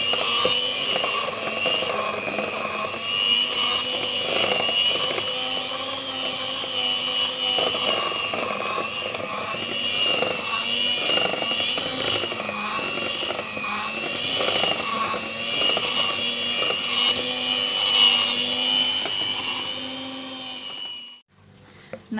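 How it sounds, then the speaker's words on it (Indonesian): An electric hand mixer whirring through pandan sponge cake batter, a steady high motor drone with slight wavering as the beaters move, running continuously and then cutting off at the end. "aku mixer kembali sampai warnanya merata juga"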